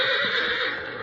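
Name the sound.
horse neighing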